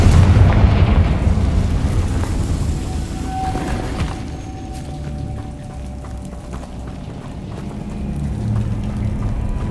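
Blasting-spell explosions in Hogwarts Legacy on PS5: a loud, deep boom at the start that rumbles and decays over several seconds, leaving a low, steady game-ambience roar with a faint tonal hum.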